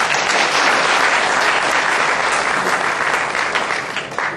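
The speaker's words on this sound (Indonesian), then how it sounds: "Tepuk tangan." Steady applause from an audience at a Jakarta student event, greeting actor Rano Karno; dense, loud clapping that holds for several seconds and eases slightly toward the end.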